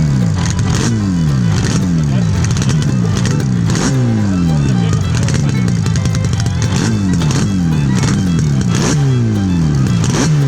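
A Yamaha RD 350 two-stroke motorcycle engine at full acceleration, loud and near, rising through a repeated series of gear-by-gear revving climbs with a rough, buzzing tone for about ten seconds.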